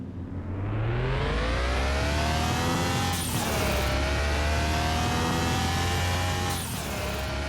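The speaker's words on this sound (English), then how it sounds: "That's what that hiss at the end. Yeah. That's the blow off valve." A car engine in Car Mechanic Simulator 2021 revs up loudly in rising sweeps, and each time the throttle lifts the blow-off valve lets out a short, sharp hiss. The hiss comes twice, close and prominent, with no talking over it.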